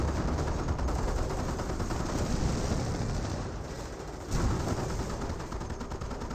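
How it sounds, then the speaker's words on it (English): Hellcat tank destroyer firing in Company of Heroes, sustained dense battle noise of gunfire and explosions, loud and continuous with a brief dip near the end. "Hellcat firing away."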